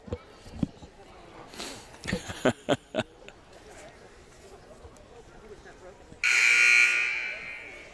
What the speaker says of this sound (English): the buzzer will sound. That's the 15-second warning